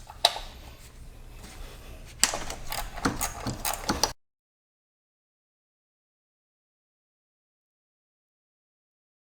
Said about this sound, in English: They do use a 10mm bolt right on top, so we're going to go ahead and take off all 4 of those.